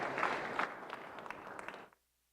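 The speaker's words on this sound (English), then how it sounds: "give a big applause for Maria" Brief applause from an audience at a live-streamed talk, a soft, dense patter of clapping that fades out after about two seconds.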